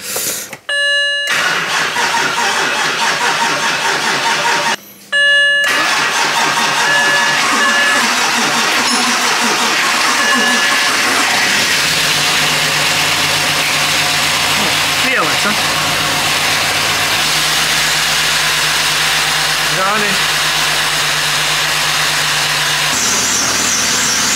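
A freshly installed race car engine, in a 325 Cup car, cranks and fires up loudly, then settles into a steady, rumbling idle that continues for a long stretch, with brief dips early on.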